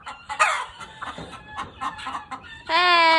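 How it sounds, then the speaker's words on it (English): Chickens cluck and squawk busily at a barn, a close, overlapping chorus of short calls that ends with a loud rooster crow. "You get to yell at chickens too."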